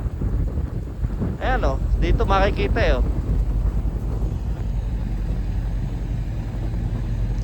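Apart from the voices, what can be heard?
strong wind outdoors in Calgary winter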